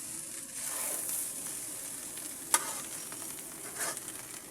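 Fried rice with spring onion, soy sauce and egg sizzles in a pan, giving a steady frying hiss with occasional light stirring scrapes and one sharp clink.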